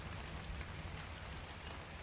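Steady rain hisses and patters without a break in the survival game Ark, a dense, even wash of falling drops with no voices over it.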